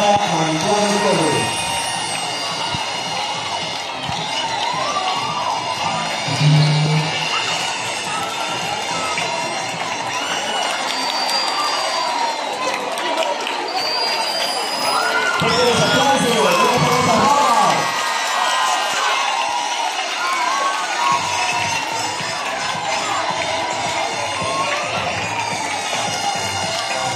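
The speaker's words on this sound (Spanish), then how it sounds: "Esto es aplauso para recibir a Aleli Samara Mantuano Torres." A pageant crowd cheers and whoops loudly throughout, with shouting, whistles and a constant roar of voices filling the space.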